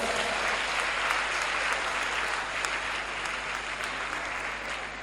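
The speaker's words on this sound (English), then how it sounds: "Let's give them another hand of applause." Sustained applause from a conference audience fills the room, a dense, even wash of many hands clapping at once that holds steady throughout with no break.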